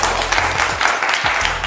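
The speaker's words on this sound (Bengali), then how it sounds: "তাহলে একটা জোরে হাততালি হয়ে যাক" A short burst of loud, dense clapping from a studio audience on a Valentine's Day family show, with a low background hum underneath.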